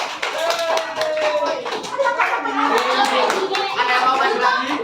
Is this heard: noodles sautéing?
no